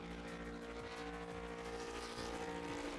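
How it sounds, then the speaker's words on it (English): Steady drone of a GT3 race car engine in a racing video game, revving through several gear shifts with faint tyre squeal, mixed with background music and no talking. "You got the sound of the engine."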